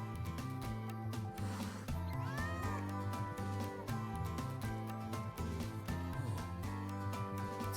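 A cat meowing in the video game Wuthering Waves, with repeated plaintive meows rising and falling over steady background music, the calls close and clear throughout.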